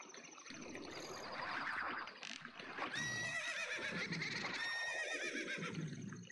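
A horse neighs loudly in drawn-out whinnies with a bright, wavering pitch, repeated twice over a busy background of clatter and rumble, in the video game The Legend of Zelda: Ocarina of Time.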